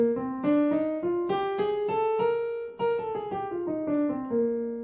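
A bebop dominant scale run of quick piano notes climbing and falling in steady succession, played alone, each note clearly struck and lightly ringing.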